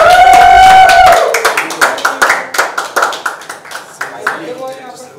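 An audience at a celebrity interview for a web series claps in a quick run of distinct, crisp hand claps that gradually thin out and fade, right after a brief voiced sound.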